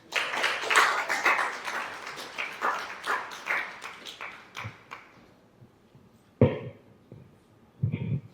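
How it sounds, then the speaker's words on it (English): An audience applauds at the end of a presentation at an ISO 50001 and ISO 14001 sensitisation workshop, brisk clapping that gradually thins and fades, followed by a couple of isolated louder claps or taps near the close. "Another round of applause for me."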